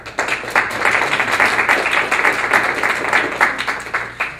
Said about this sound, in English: I'd like to introduce to you, please give him a big round of applause, Mr. John Simpson.